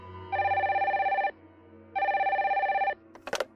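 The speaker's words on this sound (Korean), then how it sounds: "그때 전화가 왔습니다." A telephone bell rings in two long, steady bursts with a short pause between them, loud and close in a quiet room, followed by a couple of faint clicks. No one speaks.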